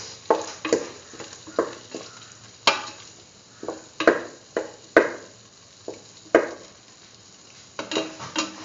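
A spoon stirs a chickpea and bell pepper stew with green capsicum pieces and cilantro leaves in a pot, giving repeated scraping strokes in an uneven rhythm over a soft sizzle, close and clear with no talking.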